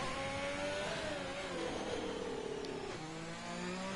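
A race car engine in a PS4 racing game revs high at the Singapore GP, a steady whining drone whose pitch glides up and then drops sharply near the end, with the sound held quiet and constant.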